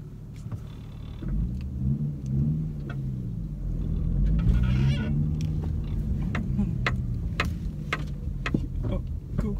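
Cars pass on a road one after another, with engines rumbling and surging louder in the middle, alongside ticking clicks and a steady low drone.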